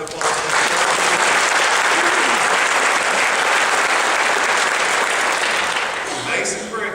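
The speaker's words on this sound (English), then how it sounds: "let's give a nice round of applause" A graduation service crowd applauds a graduating student with loud, dense clapping that holds steady from the start, then tapers toward the end.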